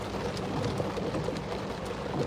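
Heavy rain falls in a dense, steady hiss with a low rumble underneath, continuous and close throughout.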